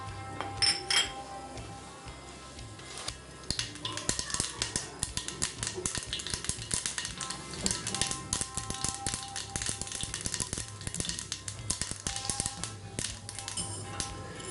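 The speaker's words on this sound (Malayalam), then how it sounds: "കടുക് പൊട്ടി തുടങ്ങിയിട്ടുണ്ട്." Mustard seeds splutter in hot coconut oil in a pan, with a dense run of sharp, quiet pops and crackles that thicken and continue throughout.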